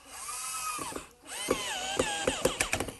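A power drill drives screws into wooden workbench legs, its motor whining up in rising and falling pitch, then finishing with a close burst of rapid ratcheting clicks.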